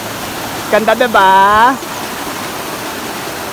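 A waterfall at Alibeng in Sison, Pangasinan gives off a constant, even rushing wash of water noise, with a person speaking briefly over it near the start.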